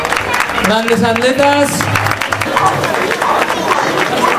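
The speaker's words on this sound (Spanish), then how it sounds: "Un fuerte aplauso." A crowd applauds athletes at a year-end sports event in Spain, steady clapping running throughout while an announcer speaks over it through a loudspeaker.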